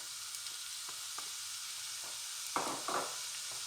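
Onions and carrots sweating in a pan over medium heat, a soft, even, continuous sizzle with a few light stirring scrapes near the end, heard alone.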